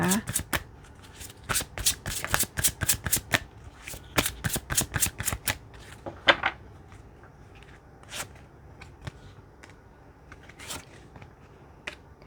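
Tarot cards are shuffled in quick bursts of crisp riffling snaps, dense at first and then sparser, close up and fairly clear against a quiet background.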